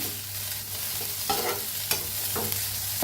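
Garlic cloves stirred and roasted in hot oil in a pan for kat vada: a steady close sizzle with a few scraping stirs of the spoon, and no voices.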